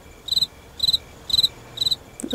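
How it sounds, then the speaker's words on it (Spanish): Crickets chirp at night in four evenly spaced, pulsing trills, each a quick rapid burst at a moderate, steady level. "¿Se oyen los grillos?"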